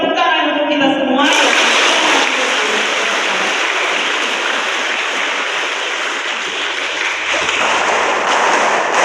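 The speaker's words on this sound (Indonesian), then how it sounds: "tepuk tangan untuk kita semua" Retreat participants clap together in a sustained, dense round of applause, loud and steady for several seconds after a brief spoken line at the start.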